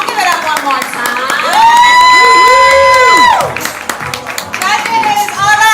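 A poetry slam crowd erupts in cheering, whooping and clapping after a poem, with loud rising and falling shouted whoops over a bed of applause that surges, fades slightly, then swells again.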